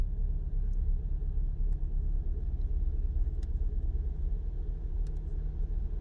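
A Nissan K11 Micra engine running on a Speeduino setup with coilpacks holds a steady, raised idle, a continuous low rumble close by with no speech over it.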